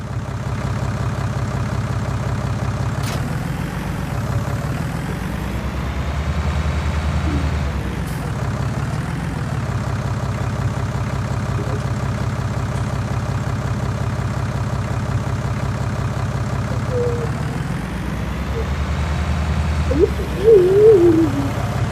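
A small tractor engine from Farming Simulator 20 runs continuously at a low, steady drone, with the revs rising and falling a few times and brief mechanical clicks near the end.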